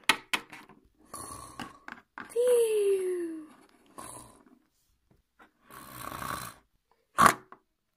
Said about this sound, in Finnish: sisko, sä kuorsasit